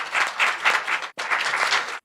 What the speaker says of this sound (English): And another round of applause for our generous sponsor for tonight.